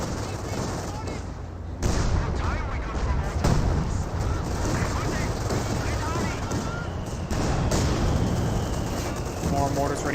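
Battle in Company of Heroes 2, with an ISU-152 and PaK-40 trading fire; a dense, continuous rumble of gunfire and explosions, with a voice talking over the combat.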